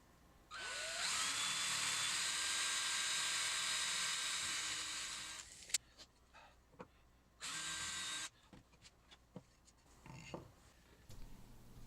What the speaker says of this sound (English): Using a 1/8 drill bit, drill on these 2 marks